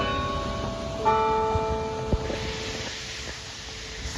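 Chime Master church bells ringing out across a town: sustained, overlapping bell tones hum and decay with fresh strikes layered in, moderately distant under a steady outdoor background, with no speech.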